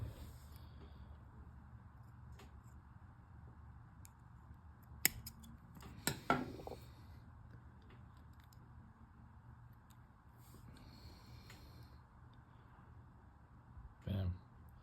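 Scissors snipping off excess braided fishing line, a few faint, sharp cuts clustered together, then a last snip after a quiet pause.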